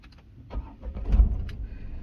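A Tata Altroz base-model compact petrol car starting up, heard as a short low crank and engine catch that swells briefly then settles to a quiet idle, close by with no talk.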